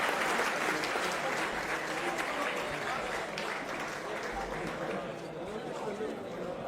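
Loud, sustained applause from a crowd at a public Jai Hind gathering in Delhi honouring veteran soldiers, dense clapping throughout with faint voices mixed in.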